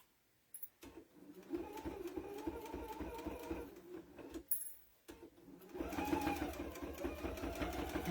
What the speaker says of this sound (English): I will sew all the way around to close it up